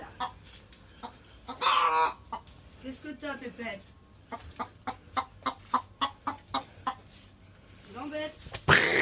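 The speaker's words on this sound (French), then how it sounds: "Non, tu laisses la poule." Hens clucking near and far in a backyard run, with short repeated clucks in a steady rhythm between bursts of French speech from someone talking to them.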